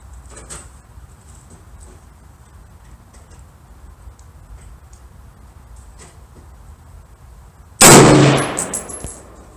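A single close, loud 6.5 Creedmoor AR-10 rifle shot fired with Federal Non-Typical ammunition at a target, a sharp blast with a decaying tail that breaks an otherwise quiet outdoor background.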